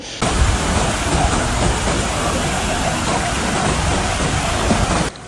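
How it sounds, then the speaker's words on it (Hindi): Mountain water rushes steadily, a dense, even broadband roar of flowing stream or falls that holds unbroken for several seconds, close and fairly loud with no voices. "मुझे पानी की आवाज़ इतनी अच्छी लग रही है"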